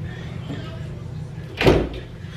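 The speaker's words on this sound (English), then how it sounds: "Let me close that door" An indoor door is pushed shut with one short, firm thud and brief rattle, standing out over low room noise.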